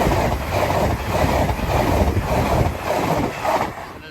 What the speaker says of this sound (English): train of the day is 800 111, the Poppy train from Inverness to London King's Cross.